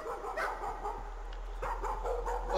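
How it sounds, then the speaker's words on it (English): A dog barks and whimpers in the horror video game Layers of Fear, several short yelps and whines over a low droning ambient hum, moderately faint with no speech. "Oh, look, it's his dog."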